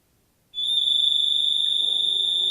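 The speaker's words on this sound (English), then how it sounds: "So it's a very loud alarm." An Arlo security camera's siren alarm switches on abruptly, a loud, piercing electronic tone holding steady, shrill and blaring without pause.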